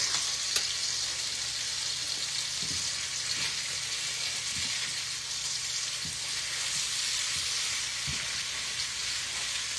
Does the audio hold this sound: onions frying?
yes